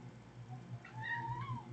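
A cat meows indoors, one drawn-out rising and falling call, fairly quiet over a low steady electrical hum, with no talk.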